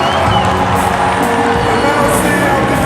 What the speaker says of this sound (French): Avec les applaudissements plus nourris, s'il vous plaît.